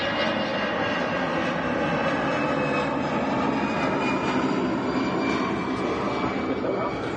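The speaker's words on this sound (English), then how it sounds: "EasyJet coming in from Geneva, an A319 going around." An EasyJet Airbus A319 going around at Manchester Airport, its jet engines giving a loud, steady roar that holds throughout without a break.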